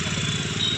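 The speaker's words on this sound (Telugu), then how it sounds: "బైక్లు వస్తున్నాయి, పోతున్నాయి." A motorcycle engine on a roadside hums with a steady throbbing drone, fairly close and continuous for a brief moment, with no voices.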